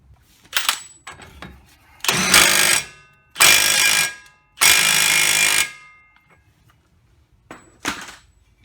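Tightening a nut on the front wheel bearing of a 2003 Nissan Altima 3.5, heard as three loud, close bursts of power-tool whirring, each about a second long, with softer clicks and short rattles before and after.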